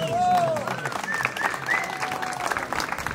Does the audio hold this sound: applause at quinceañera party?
yes